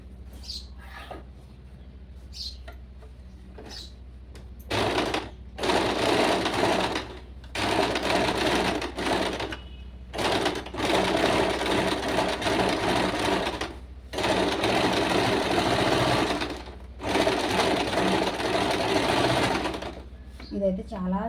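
A domestic sewing machine sews a small zigzag stitch in short, rapid mechanical bursts of several seconds each, separated by pauses, recorded close up on a quiet background.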